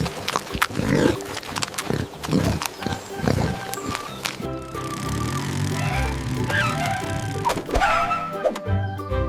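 A farm pig grunting and oinking in short, irregular bursts, fairly close, with snorting noises and a spoken voice mixed in among the calls.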